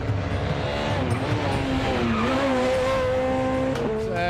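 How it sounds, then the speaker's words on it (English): Rally car at speed through a fast left-hand corner on a barrier-lined ERC stage in Valais, engine note rising and falling continuously and loud, with tyres scrabbling as it nearly slides wide. "going into that fast left-hander, almost sliding into the barrier"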